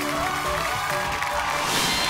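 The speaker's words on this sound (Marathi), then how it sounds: "एकदा जोरदार टाळ्या होऊन जाऊ दे" A studio audience on a Marathi television show breaks into steady, sustained applause, a dense wash of clapping that holds at an even loudness for the whole stretch with no voices on top.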